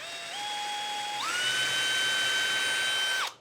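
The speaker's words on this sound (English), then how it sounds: "And all I'm going to do is countersink right here in the middle or wherever I want my screw." A power drill with a countersink bit bores a screw hole in wood, its motor whine rising in pitch in two steps and holding steady before cutting off sharply; it is close and loud, with no talk.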